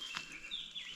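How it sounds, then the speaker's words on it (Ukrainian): Birds chirping and calling in the forest, with thin high tweets at a moderate distance against soft outdoor background noise. "Ох, і пташки співають."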